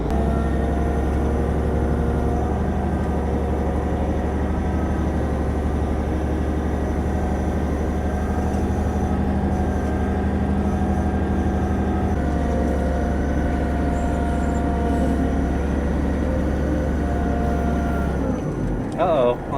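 A CAT 826C trash compactor pushing a load of garbage, its heavy diesel engine droning loud and steady with deep rumbling layers, easing slightly partway through before a clatter at the end.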